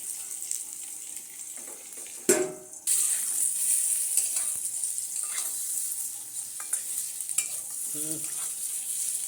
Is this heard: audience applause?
no